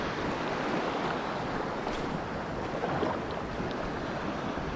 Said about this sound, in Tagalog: Lakas lang yung ano dito, yung alon.